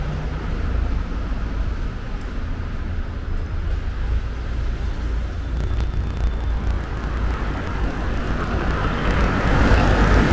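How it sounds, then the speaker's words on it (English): Loud, steady road traffic fills a Munich street, a continuous broadband roar of passing vehicles that swells slightly toward the end, with no voices heard. "Damn traffic, it's so loud."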